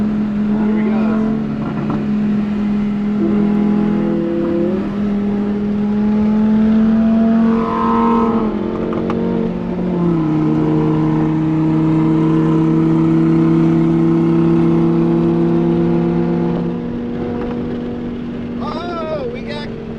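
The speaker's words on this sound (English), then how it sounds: "Lamborghini, he spec'd that car out." A Lamborghini sports car's engine drones steadily and loud, rising in pitch as it accelerates and revs, then easing off, with voices talking faintly underneath.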